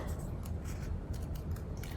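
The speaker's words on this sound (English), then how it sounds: "Then I'm gonna take my scissors and I'm gonna do my best to create a half circle." Scissors snip steadily through a folded paper square, shaping it into a half circle for a clothespin craft, with repeated close crisp cuts over a soft continuous rustle.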